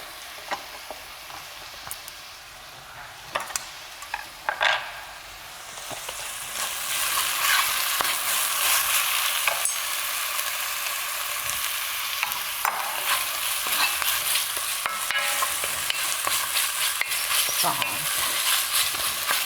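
Onions frying in a pan, starting quiet with a few utensil taps, then a loud steady sizzle swells up and continues with occasional stirring scrapes; no talking.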